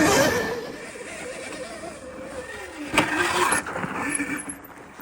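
A Yamaha TTR RTR dirt bike runs a practice lap on an abandoned motocross track, its engine note rising and falling as it moves around, mid-distance and fairly steady, with a brief louder burst partway through.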